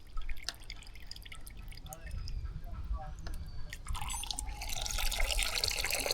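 Water starting to run from a reverse osmosis water filter, first scattered drips and light trickling, then a steady bright stream of water filling in after a few seconds, close by.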